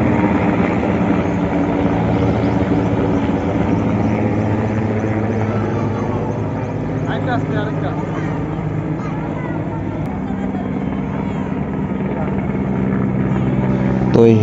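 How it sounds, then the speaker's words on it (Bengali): A helicopter flies overhead on its way to land at a stadium, its rotor drone loud and continuous throughout, with crowd voices and talk underneath. "তো এই হেলিকপ্টারগুলো রায়গঞ্জ স্টেডিয়ামে যাচ্ছে, ওখানে ল্যান্ড করবে"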